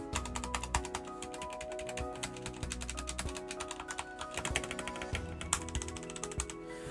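Typing on a lightweight Redragon K617 Fizz 60% hot-swap keyboard with Outemu switches, a steady run of close, clacky keystrokes with rapid uneven rhythm and no speech.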